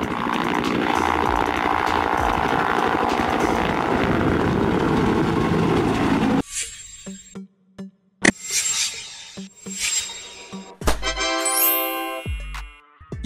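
An offshore oil rig helicopter gives a loud, steady engine and rotor roar for about six seconds, then cuts off abruptly. Bright chiming, jingly tones follow.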